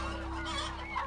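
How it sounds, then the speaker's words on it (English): Happy chickens clucking and crooning, a continuous soft chorus of hens with one brighter call near the end, no talking. "they croon and they buck and they just are happy chickens"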